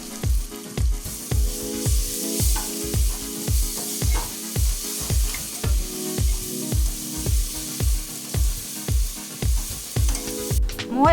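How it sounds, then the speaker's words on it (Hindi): Onion with ginger garlic paste masala fries in a pan for mutton korma, a loud close sizzle broken by steady rhythmic stirring scrapes about every half second, with no voices. "एबे मु एथिरे 2 बड़ चामच अदा रसुण पेस्ट पकई देबी। आउ मसला को भल से कसी नेबी।"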